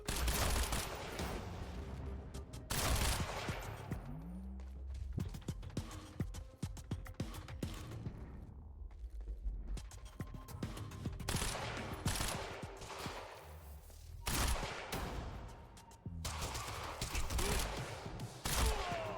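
Sustained gunfire in Quantum Break, with repeated bursts of sharp shots throughout, brief lulls between volleys, and heavy echoing impacts in a firefight.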